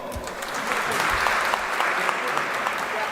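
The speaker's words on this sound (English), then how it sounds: "A big round of applause, my friends, to MIT School of Government and the vision of Dr. Rahul Vishwanath Karad." Audience applause at a commencement ceremony for a political leadership and governance master's program, a steady, dense wash of many hands clapping that holds throughout at an even level.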